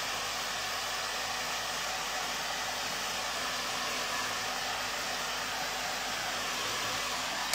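A hair dryer blows steadily on fresh paint on a shabby chic candle holder, a loud, even hiss that runs unbroken, with no talking.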